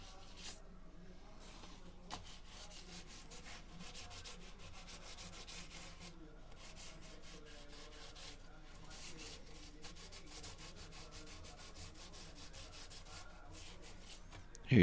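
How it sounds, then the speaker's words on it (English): Sandpaper rubs back and forth over the repaired wooden headstock of a Les Paul guitar in quick, steady strokes, faint and close, with a soft voice now and then in the background. "But first, this needs to be sanded off."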